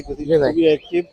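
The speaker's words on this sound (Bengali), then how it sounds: "এখানে অনেক সুন্দর কিছু পাখি" Cage birds at the Mirpur bird market in Dhaka call in short chirps and coo-like notes, fairly close, mixed with nearby voices and market bustle.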